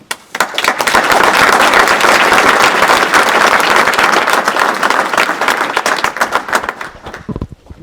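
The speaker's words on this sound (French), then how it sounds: "Je pense qu'on peut aussi les applaudir." Audience members at the 2020 New Year's wishes ceremony in Arpajon break into loud, dense applause that builds fast, holds for several seconds, then thins to scattered claps.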